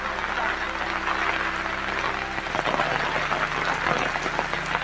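Heavy monsoon rain pours outside a village home in the Konkan region, a dense, steady roar that stays loud and unbroken throughout, with a low hum beneath it.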